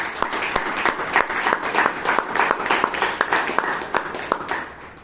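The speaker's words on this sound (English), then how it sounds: "Please give him a big round of applause." An audience at a Toastmasters meeting in Bangalore gives a round of applause, with dense, steady clapping from many hands that carries on for about five seconds.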